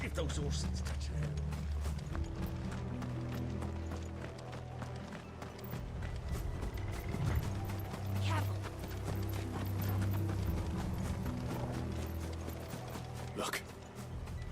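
Horse hooves clip-clop at a steady trot in the video game Final Fantasy XVI, over a low rumbling background, with occasional sharp clanks and rattles.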